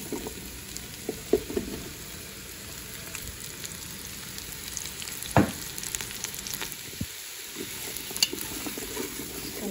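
Mushrooms sauté in butter inside a Ninja Foodi cooker, giving a continuous soft sizzle and crackle with occasional clacks and scrapes as they are tossed and stirred, no talking.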